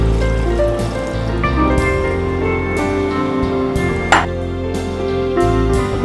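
Coconut milk, about one and a half cups, pours into a pot of raw mango curry as a continuous close liquid trickle and splash, fairly loud, with a few clinks of the vessel and no talking.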